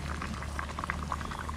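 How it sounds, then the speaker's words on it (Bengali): Mixed fish curry simmering in a covered pot, a quiet steady bubbling with soft popping blips, close and continuous with no voices. "আস্তে আস্তে জাল দেবো আর আস্তে আস্তে সেদ্ধ হবে মাছ"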